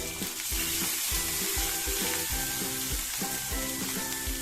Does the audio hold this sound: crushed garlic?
yes